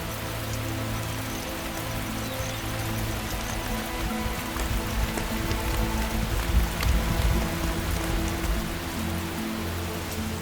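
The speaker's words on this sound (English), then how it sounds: "Some find the cold downpour irritating" Steady heavy rain from an evening thunderstorm pours down in the Masai Mara, a dense continuous hiss of drops drumming on surfaces, with a low rumble beneath and a slight swell in intensity midway.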